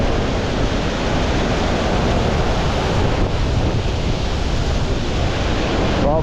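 A waterfall in the Moose River valley of northern British Columbia roars as a loud, close, constant wash of rushing water that never lets up, with no voices over it.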